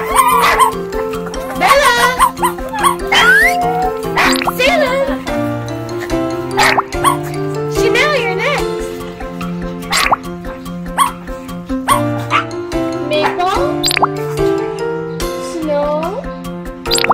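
Toy puppies yap and bark repeatedly as they board a toy school bus, their short barks scattered over a bright, steady musical backing.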